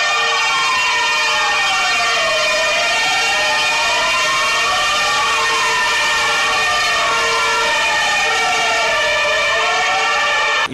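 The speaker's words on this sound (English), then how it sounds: "ambulance" Ambulance siren on a street in Barcelona during an emergency response with police and a bomb squad nearby. A loud, continuous rising-and-falling wail sweeps steadily throughout with no voices.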